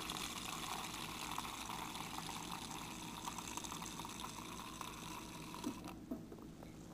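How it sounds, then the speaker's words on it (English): Tap water pours steadily into a glass to make a fizzy vitamin drink, a continuous close splashing gush that runs for several seconds before tapering off near the end. "I'm just add my water into here."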